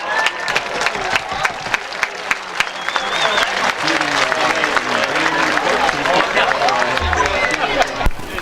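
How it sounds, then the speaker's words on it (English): Spectators at a high school varsity football game, Bradley Central against Maryville, applaud the seniors. Steady crowd clapping with scattered cheers carries on throughout, while an announcer talks over the applause. "Let's give all our seniors a round of applause."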